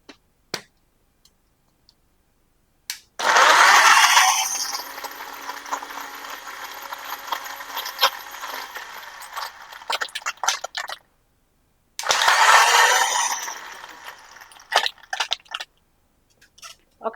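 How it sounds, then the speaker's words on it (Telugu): A kitchen mixer grinder blends mango pieces with four or five ice cubes in two loud, rattling bursts separated by a pause, with scattered clicks and knocks before and after. "ఒక్కసారి మిక్సీ కొడతాను నేను."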